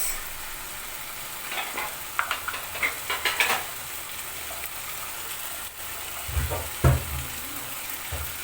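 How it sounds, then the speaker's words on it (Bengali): Crab masala with chili sizzling in a pan while being stirred, a soft continuous fry with a few scraping clinks in the middle and a louder knock near the end. "মশলাটা ভালো করে কষিয়ে নিয়েছি"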